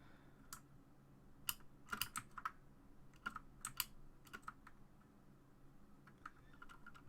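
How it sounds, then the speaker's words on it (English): Computer keyboard keys tapped while playing Super Meat Boy: scattered sharp clicks in irregular clusters, some rapid doubles, fairly close but quiet, with no talk over them. "I'm certainly getting more used to playing with the keyboard after a couple levels here."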